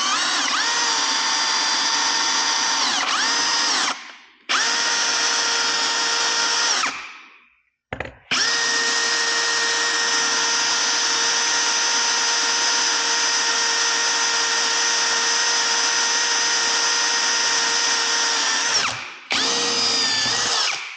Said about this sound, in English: then I'll put the bigger drill in